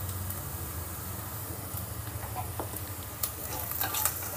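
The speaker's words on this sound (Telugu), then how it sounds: "ఇప్పుడు మన పోపు అయితే వేగిందండి. ఇప్పుడు ఇందులోనే కొద్దిగా ఇంగువ కూడా వేసుకుందాం." Curry leaves and spices tempering in hot oil for sambar, with asafoetida added, giving a steady close sizzle and faint stirring scrapes throughout.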